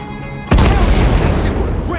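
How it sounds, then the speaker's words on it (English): A C4 charge detonates in the video game State of Decay 2: sudden, loud and close after a quiet lead-in, then a long rumbling roar with debris that slowly fades, with a voice reacting over the tail. "Holy shit. That was a big explosion."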